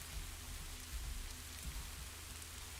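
Steady rain ambience playing in the background, a soft, continuous patter with low rumble, even in level throughout and with no voices over it.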